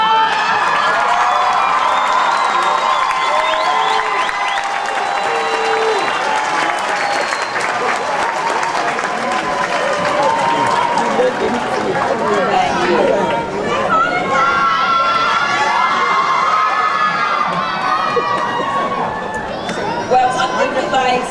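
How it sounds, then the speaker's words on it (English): A large crowd at a graduation ceremony claps steadily and loudly for about twenty seconds, with cheers, whoops and chatter mixed into the sustained applause. "look around, and clap and give your family a clap"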